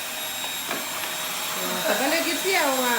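A vacuum cleaner runs on a home floor with a steady, loud, unbroken whine while voices talk over it.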